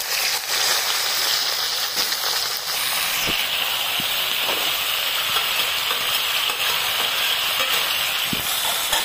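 Vegetables frying in hot oil with panch phoron for bhoger khichuri, a loud steady hiss and sizzle throughout with occasional soft knocks of a utensil.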